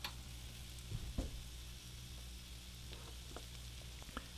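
Vegetables sizzle in melted fat on a cast iron griddle, a soft, steady frying hiss at low level with a few faint clicks and stirring scrapes, no talking.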